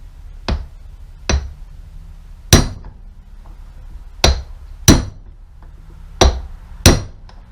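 A hammer taps U-joint cups into place on a BMW E46 driveshaft in seven sharp, close metallic strikes spaced irregularly, with quiet pauses between them.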